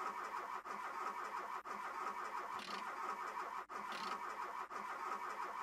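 Engine cranking without catching on a Volkswagen Golf with a fresh motor in The Long Drive video game, a steady repeated starter churn broken by brief pauses, loud and close with no talking.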